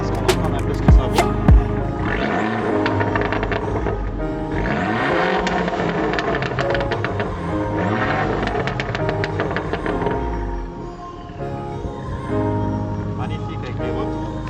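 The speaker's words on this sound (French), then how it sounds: "Tu peux nous mettre 2-3 coups de gaz qu'on entende un peu ce que ça vaut." A tuned Fiat 595 Abarth engine blips and revs several times, loud and close with rising and falling pitch and a couple of sharp pops, while people talk over it.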